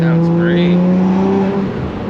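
Nissan R34 GT-R with universal valved mufflers, a free-flow downpipe and a turbo, its exhaust droning loud and close in a sustained low tone with a faint turbo whistle on top, easing slightly near the end.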